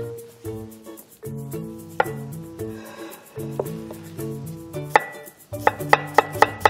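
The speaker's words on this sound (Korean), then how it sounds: "얇게 썰어주시면 돼요. 동글동글하게 얄팍얄팍하게 썰어서 절일 겁니다." A knife slices a cucumber into thin rounds on a cutting board, its quick, regular taps growing sharper and faster toward the end under background music.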